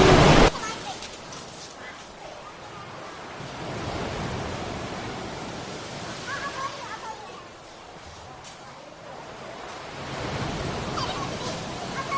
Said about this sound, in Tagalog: sa lakas ng alon, pas ng alon